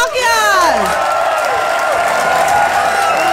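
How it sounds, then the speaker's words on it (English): Crowd at a stand-up comedy show applauding and cheering as the headliner comes on, a loud continuous roar of clapping with whoops and a sustained high whistle-like cheer, no pause throughout. "Clap it up for Stavros Halkias!"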